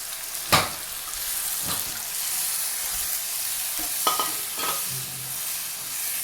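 Curd mixture poured into sautéed capsicum in a hot pan, giving a steady loud sizzle with a few sharp spoon scrapes and clacks as the mixture is stirred, close up.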